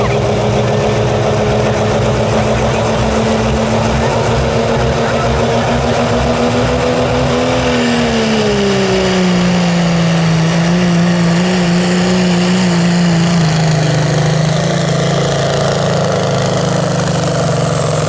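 A diesel 4WD pulling truck at a Highland County Fair truck pull roars loudly and steadily throughout, its engine pitch falling noticeably midway and then settling lower, a continuous close-up drone with no talk.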